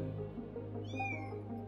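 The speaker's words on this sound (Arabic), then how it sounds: "هو القطط صحيت فمش هفصل بقى" Cats meowing just after waking, a short rising-and-falling meow heard once mid-clip over a steady low indoor hum, fairly close and clear, with no talking.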